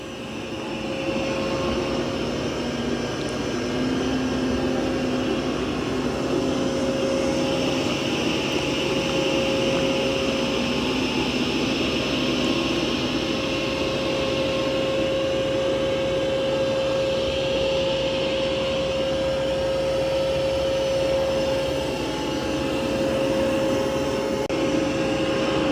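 Mova P10 Pro Gen 2 robot vacuum running on maximum suction boost while cleaning carpet, a steady airy whine with a constant tonal hum that holds unbroken throughout, close and moderately loud.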